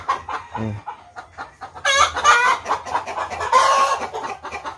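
Several Rhode Island Red hens cackle loudly and repeatedly nearby after laying eggs, their raucous clucks overlapping in a noisy, insistent chorus.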